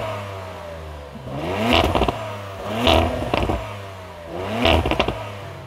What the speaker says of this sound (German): Ich drücke mal den Startknopf, mach mal an.